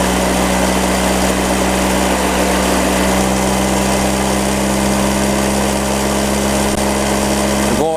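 A Motobécane AV48 moped engine runs steadily and loudly nearby, a constant buzzing drone with no breaks across the whole stretch.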